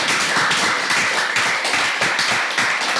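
An audience at a Nigerian student debate event applauds, a dense run of loud clapping from many hands that carries on steadily with no talking over it.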